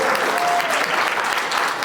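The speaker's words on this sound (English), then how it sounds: "Everybody clap for that one." An audience at a Denton County Republican Party meeting claps together in a short burst of steady, evenly dense applause lasting under two seconds.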